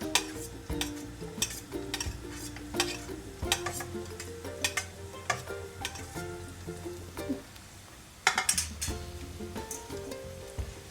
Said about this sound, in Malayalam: ഇത്രയും കൂടെ ഇട്ട് വഴറ്റുക. അതിനൊരു റോ ടേസ്റ്റ് പോകുന്നത് വരെ വഴറ്റി കൊടുക്കുക.